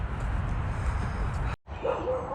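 Noisy dogs at a house along a countryside path bark through a steady rumble of outdoor noise, with one clearer yelp near the end after a brief dropout.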